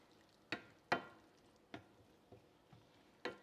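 A utensil taps and scrapes in a pan every half second or so while taco seasoning is mixed into cooking meat for a taco salad, with faint sizzling underneath.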